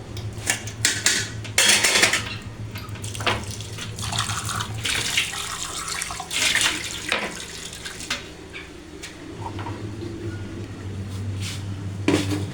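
Water runs from a tap while clothes are washed in a home kitchen area, with splashing, clinking dishes and scattered knocks of handling over a continuous flow.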